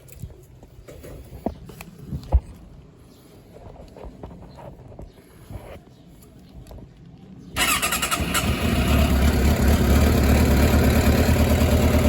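A 2006 Suzuki GSX600F motorcycle, just given an oil change, cranks over after some close handling clatter and then fires into a loud, steady idle that holds to the end, with no talking.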